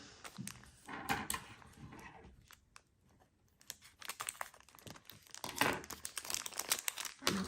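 A crinkly Danone Süprix dessert wrapper is opened close by, with bursts of sharp crackling and crumpling that come in irregular clusters, pausing briefly before louder rustling resumes.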